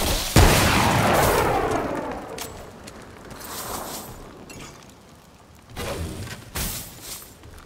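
Explosive barrel detonating in Remnant: From the Ashes, a sharp loud blast followed by a long rumbling, crackling decay, with smaller bursts of debris or gunfire-like pops near the end.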